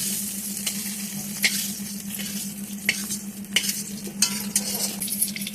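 Fish frying in a pan, giving a steady close sizzle with occasional sharp crackles and stirring scrapes over a constant low hum.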